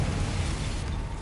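A Confringo explosive spell bursts in Hogwarts Legacy on PS5, a loud, close, rumbling blast with a broad rushing roar that fills the short moment and fades slightly.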